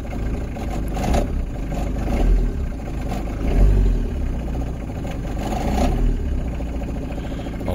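Truck engine idling while warming up, a steady close rumble with mild irregular swells and faint clatter, no voices over it.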